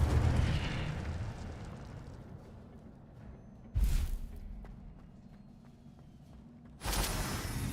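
In Hogwarts Legacy, the Incendio fire spell is cast with a deep rumbling whoosh that fades out. Two more sudden fiery bursts follow, one around the middle and one near the end, each loud and close.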